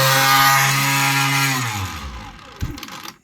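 A water jet motor with a 3D printed aluminum impeller whines loudly at high speed, its pitch sliding down as it spins down over about two seconds, ending in a few close rattling clunks.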